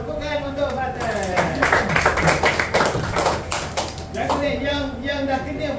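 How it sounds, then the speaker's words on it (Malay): Students in a classroom give Fatih a short round of applause, a burst of clapping in the middle of the clip, framed by talking voices before and after. "Tepukan untuk Fatih"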